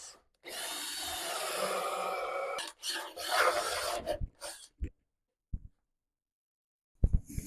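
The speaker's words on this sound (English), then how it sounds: "Chisel that bit out from the inside now" Chisel cutting into reclaimed oak for a DIY light fixture, a sustained rasping scrape for several seconds, then a few short sharp chops and knocks separated by quiet gaps.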